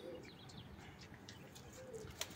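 Pigeons of Rampuri, Kalume, Safed and Cheene Pilibhit breeds in a village loft, cooing softly and faintly in repeated low calls amid light background chirps and a brief flutter.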